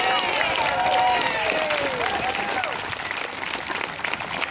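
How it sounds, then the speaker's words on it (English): Audience at an award ceremony breaks into sustained applause mixed with crowd cheering and excited voices, loud and dense at first, then easing slightly toward the end. "So let's give one more big round of applause."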